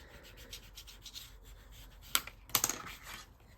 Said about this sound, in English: Okay, I'm gonna rub this a little bit.